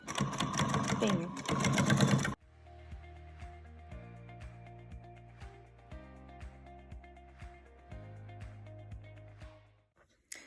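A sewing machine stitches trim onto dining chair upholstery in steady, close bursts of rapid mechanical chatter, following a loud rustling opening of about two seconds.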